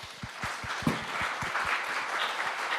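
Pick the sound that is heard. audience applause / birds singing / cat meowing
audience applause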